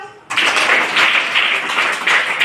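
A group of orphaned children at a birthday celebration in an orphanage break into loud, dense clapping that starts abruptly and carries on with a pulsing beat, with some voices mixed in.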